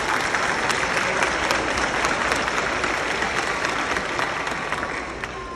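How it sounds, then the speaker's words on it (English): Graduation ceremony audience giving parents a sustained round of applause, dense steady clapping filling the hall with some crowd noise, tapering slightly toward the end. "Give your parents a round of applause."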